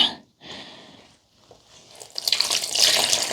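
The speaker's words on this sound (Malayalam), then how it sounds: "ഇത്രയും വെള്ളം സാധാരണ നമ്മൾ ഒഴിക്കാറില്ല കേട്ടോ ഇത് ഭയങ്കരമായിട്ട് ഉണങ്ങിയിരിക്കുന്നതുകൊണ്ടാണേ" Water splashes from a pour onto a very dry potted holy basil (tulsi) plant, starting softly, pausing, then swelling into a louder steady close-up gush near the end.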